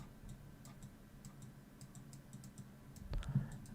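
Fast keyboard typing for notes, a steady run of light clicks at moderate distance over a low background hum, ending with a few louder knocks.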